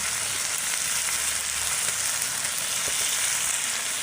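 Onion and garlic fry in hot oil for a dish of rohu fish do-piyaza with bitter gourd, giving a steady, loud, dense sizzle that holds evenly throughout with no pauses.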